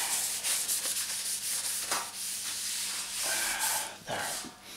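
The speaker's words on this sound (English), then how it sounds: "Less work for the angle grinder, and bristle bit." An angle grinder fitted with a bristle bit scrubs a Gauntlet arcade control panel, giving a continuous harsh hissing rasp that swells and eases in short passes, close and fairly quiet, without speech.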